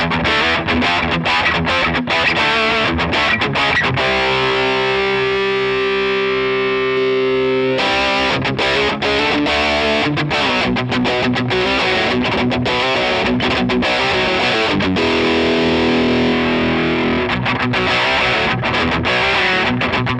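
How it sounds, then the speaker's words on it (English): Electric guitar through a Mesa Boogie Mark V amp with EQ in preset mode, playing a heavily distorted, fast chugging riff, broken by a sustained ringing chord midway before the tight palm-muted rhythm resumes, loud and up front. "let's hear how it sounds with that preset mode instead of the sliders mode"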